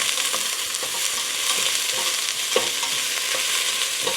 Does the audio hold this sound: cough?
no